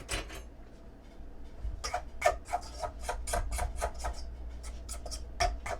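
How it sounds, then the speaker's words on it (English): Spoon scraping down the sides of a mixing bowl of pumpkin bar batter, a steady series of short rasping strokes, close and soft, with no talking. "Let me get my little thing here to scrape down my bowl."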